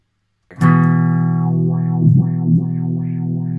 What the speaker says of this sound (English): we can go over to Condor and get that cocked wah sound